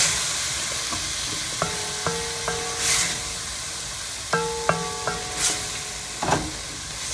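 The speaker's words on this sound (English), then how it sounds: "Stir that up" Canned vegetables stirred in a pan for salmon pesto pasta, with a spoon scraping in a few separate strokes over a low sizzle and a faint hiss, close by with no talking.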